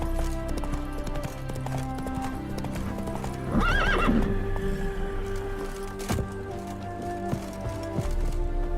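A horse gallops with quick, close hoofbeats in The Witcher 3, joined by a loud neigh midway over a continuous background of game music and light rain.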